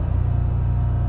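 A Jeep engine revs hard with the pedal floored while parked, giving a loud, steady low rumble that holds even throughout.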